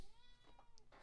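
A cat meows a couple of times up close, clear harmonic calls rising and falling over about a second with no talk.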